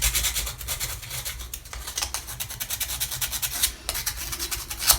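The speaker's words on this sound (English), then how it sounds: "all I'm going to do is just going to smooth on the inside of the edge" Rhythmic rubbing and scraping as a small tool smooths the inside edge of a plastic signalling bridge part for a 1/250 scale Yamato model ship, close and steady strokes with no talking.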